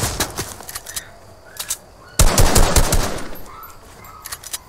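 Gunfire in the Fortnite video game: rapid automatic bursts, first in scattered short volleys, then a loud sustained stretch of shots followed by trailing pops, with no talking.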